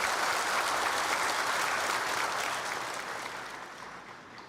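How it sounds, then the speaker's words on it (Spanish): A church congregation at Mass applauding warmly, a dense, even wash of clapping that gradually fades toward the end. "Les recibimos a él con un caluroso y fuerte aplauso."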